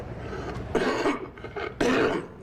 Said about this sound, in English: I got this cough here